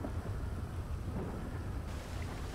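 Steady rain hisses with a low, rumbling roll of thunder beneath it in the video game GTA 5, soft and continuous with no voices.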